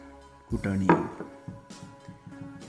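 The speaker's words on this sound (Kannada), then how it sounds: "ಬೆಳ್ಳುಳ್ಳಿ, ಉಪ್ಪು ಮತ್ತು ಕರಿಮೆಣಸು ಇದನ್ನು ಕುಟ್ಕೊಳ್ಬೇಕು." Garlic, salt and black pepper are pounded together with a few sharp, close knocks followed by lighter rhythmic taps, with someone speaking briefly over the strikes.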